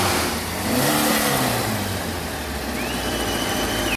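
A Dust Buggy with a fresh 2276cc VW engine revs hard on a dyno, a loud, steady engine roar that holds throughout with a rising pitch sweep and no talk over it.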